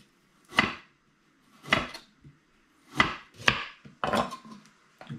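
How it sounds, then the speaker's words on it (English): A knife slicing carrots at an angle on a cutting board, five or six distinct, close chops spaced about a second apart with quiet gaps between. "for the carrots, I like to slice it at an angle like this."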